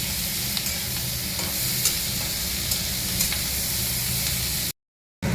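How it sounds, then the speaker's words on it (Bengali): Spring onion fritters frying in a wok of hot oil give a loud, steady close sizzle and hiss, broken by a brief total silence near the end. "এই যে পেঁয়াজ কলি ভাজাটা হয়ে গেছে"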